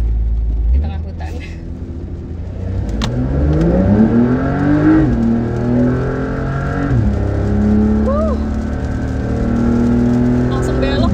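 A 2023 Porsche 911 Dakar accelerates hard on a forest road. The engine note climbs loudly and steadily through the revs, drops briefly at a shift, then pulls up again close by.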